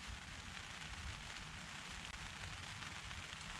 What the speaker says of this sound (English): it's definitely rain outside there now